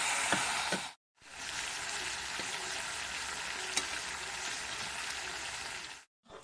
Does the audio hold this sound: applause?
no